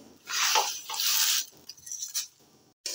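Onion peels stirred and fried in a wok, with bursts of scraping and sizzling from the spatula, some longer strokes, then brief clinks and a short pause before stirring starts again.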